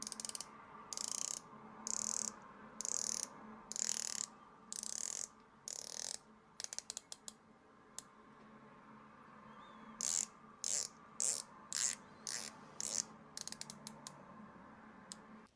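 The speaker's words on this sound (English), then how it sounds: "The bezel action is outstanding." A watch bezel with engraved polished numerals on a media-blasted background being turned, giving crisp ratcheting clicks in quick runs separated by pauses, close, quiet and with no voices.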